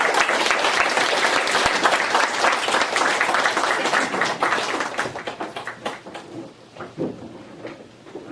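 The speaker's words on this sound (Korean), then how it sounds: "큰 박수 부탁드립니다." Audience applause welcoming a professor to a philosophy colloquium lecture, a loud full round of clapping that gradually thins into scattered individual claps and ends with a few isolated ones.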